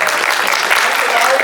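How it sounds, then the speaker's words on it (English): Audience applause at a Saturday-afternoon youth inspiration gathering: a dense, steady wash of many hands clapping, fairly loud and close, running the whole time with some voices mixed in. "Let's give them a round of applause."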